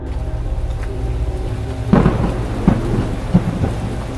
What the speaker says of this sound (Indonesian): waktu itu hujan cukup deras.